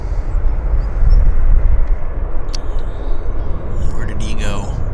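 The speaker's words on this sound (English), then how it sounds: "Taxiing out. Air Canada A321." An Air Canada A321 airliner taxis out at Vancouver airport, its engines a loud, steady low rumble with a faint whine, while a voice talks over it.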